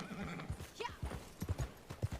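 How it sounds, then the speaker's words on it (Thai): Horse hooves clip-clop in a steady trotting rhythm in the video game Red Dead Redemption, with a brief whinny near the start and a low voice murmuring underneath. "ม้าคือยานพาหนะครับใน Red Dead Redemption"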